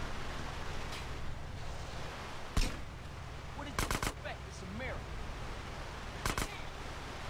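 Powerful rifle fired in the video game GTA San Andreas, a few sharp, loud bursts of shots spaced apart over a steady background wash.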